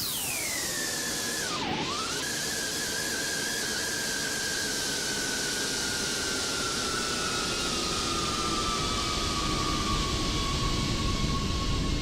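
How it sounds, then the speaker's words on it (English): A Rotate MD-11 jet engine sound in X-Plane 12 makes a slow, low flyby: a loud, steady roar with a whining tone that dips sharply as the plane passes, then settles into a slowly falling whine, with no voices. "it's almost like that sound pack was designed for the slow flyby"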